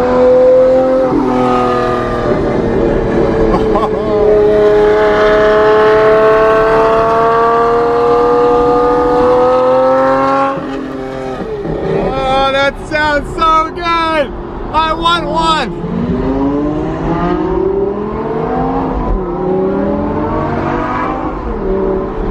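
A Lamborghini engine revs loudly with rising and falling whines and sharp crackling blips in the middle, while people talk over the engine noise.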